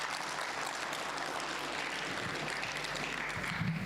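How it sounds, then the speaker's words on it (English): Steady, full applause from a conference crowd at an e-learning summit, continuous and fairly loud throughout with no talking over it. "Let's give him a big round of applause."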